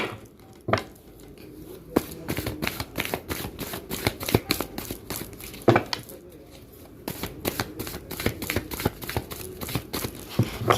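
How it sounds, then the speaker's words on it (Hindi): Tarot cards being shuffled by hand in a quiet room, a close run of crisp riffles and taps arriving in quick irregular clusters with brief pauses between bursts. "अब मैं कार्ड को मिक्स करूंगी और आपके लिए निकालूंगी"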